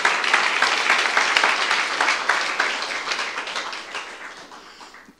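A church congregation claps together in a sustained burst of applause, many hands close and loud, fading gradually over a few seconds.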